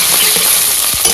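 River octopus from the Sundarbans frying in a pan, a loud, dense sizzle that is close and continuous, with a few faint pops and stirring scrapes, and no voices.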